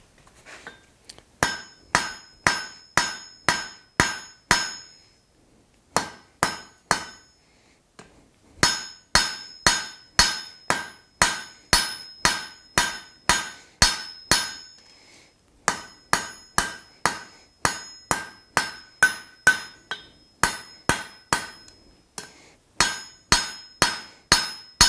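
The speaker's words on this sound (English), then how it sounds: "all I'm going to do is heat this jaw and draw it out into a little bit of taper" A blacksmith hammers a heated steel jaw on an anvil to draw it into a taper while making box-jaw tongs from flat stock. Sharp ringing blows fall in quick rhythmic runs, separated by short pauses.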